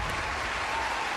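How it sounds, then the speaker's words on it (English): Steady, even applause from a crowd at a live game showcase: a dense wash of clapping that holds at one level throughout. "Golf clap."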